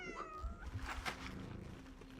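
A cat meows repeatedly in the video game Cronos: The New Dawn, its cries coming from behind a door over a low ambient rumble, fairly quiet and muffled.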